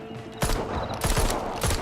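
Gunfire from a holographic-sight gun in the VR zombie game Arizona Sunshine: three or four loud, sharp shots in quick irregular succession, close and alone with no talk.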